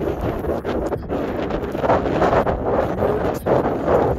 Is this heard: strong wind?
yes